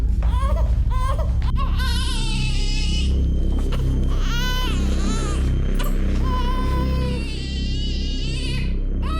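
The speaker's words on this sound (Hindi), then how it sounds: "घर में पिछले 4 घंटे से बच्चे की रोने की आवाज आ रही है" A baby wails loudly and continuously in rising, strained cries, close by, with rumbling background noise underneath.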